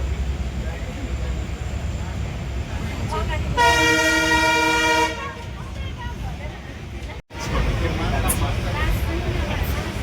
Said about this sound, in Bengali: চেয়ার কার এই ট্যুরিস্ট ট্রেনটি কিন্তু মাদারিহাট থেকে ছেড়ে এসে আমরা এখন পৌঁছাচ্ছি আলিপুরদুয়ার